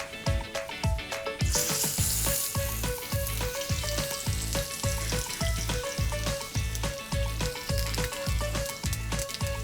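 Watermelon steak sizzles steadily in hot oil in a pan, a loud continuous fry with dense crackle and many quick sharp pops, with no talking.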